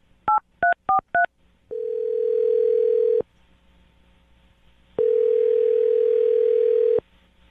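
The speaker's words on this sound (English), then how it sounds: "I'm going to dial his phone number right now" A telephone plays four quick touch-tone dialing beeps, followed by two long steady ringback tones separated by a pause of quiet, clear and close.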